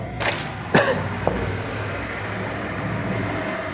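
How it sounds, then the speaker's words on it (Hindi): A teacher with a dry throat coughs two or three times in quick succession, short sharp bursts close to the microphone over a steady low room hum. "गला सूख गया है तो खांसी आ रहा है"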